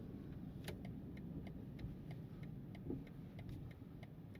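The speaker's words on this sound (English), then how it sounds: "What about the turn signal sound as I get going here?" A faint, regular turn-signal ticking repeats at a steady pace inside a 2025 BMW M5, over a low engine hum and road rumble.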